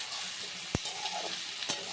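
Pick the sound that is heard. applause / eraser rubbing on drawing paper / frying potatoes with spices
frying potatoes with spices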